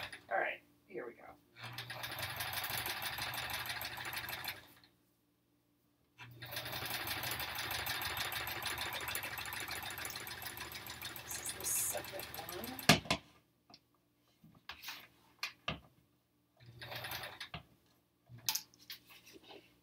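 Sewing machine fitted with a quilting foot stitching in two long steady bursts with a pause between, close and fairly loud, followed by scattered handling clicks and brief talk.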